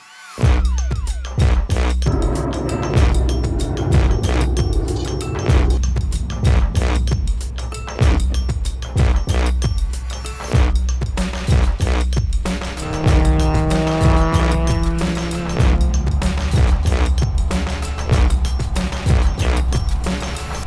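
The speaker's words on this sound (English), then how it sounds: "the Circuit Monsters Prelude is back on the track." A Honda Prelude time attack race car runs hard on track, its loud, high-revving engine rising and falling through gear changes with bursts of tire squeal, continuous and close for the full stretch.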